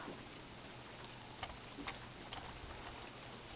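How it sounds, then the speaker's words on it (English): Steady rain in the survival video game Don't Starve: Reign of Giants during winter, a soft continuous patter with a few sharper drop ticks, heard alone at low level. "It's unfortunate that it is raining like this."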